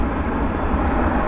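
A WestJet airliner at Vancouver YVR airport gives a steady, broad engine roar that stays loud and constant throughout, with no talk over it.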